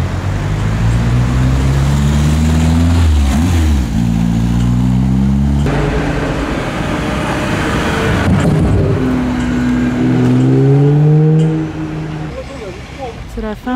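Classic cars leave the concours d'élégance at the Zoute Grand Prix, engines revving and rumbling loudly nearby as several pass one after another, with people talking over them.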